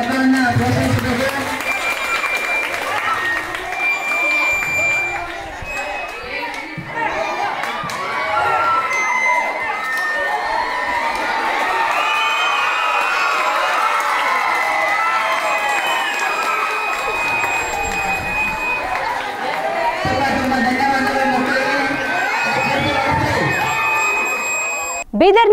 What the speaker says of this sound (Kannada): ತಾವೆಲ್ಲರೂ ಚಪ್ಪಾಳೆ ಮುಖಾಂತರವಾಗಿ ಮಕ್ಕಳನ್ನು ಪೋಷಿಸುತ್ತಿದ್ದಾರೆ.